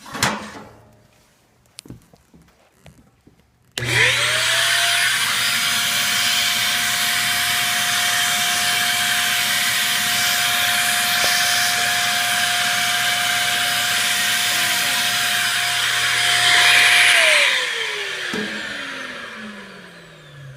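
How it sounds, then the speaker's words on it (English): A vacuum cleaner switches on and runs with a steady, loud whine for several seconds, removing ash from a 2013 Piazzetta Sabrina pellet stove, then powers down, after some brief clattering at the start. "So I'll go ahead and vacuum that."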